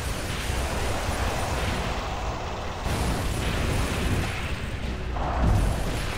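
Big missiles exploding in Gears of War 2, a dense, continuous rumble of booming blasts with several louder bursts toward the end and no clear talk.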